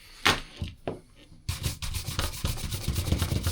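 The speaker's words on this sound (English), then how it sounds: "And we'll also hit this with a brush. This is just a horsehair polishing brush." Horsehair polishing brush buffing a Birkenstock Arizona leather sandal, with a couple of isolated strokes and then a run of fast, steady back-and-forth bristle rubbing up close.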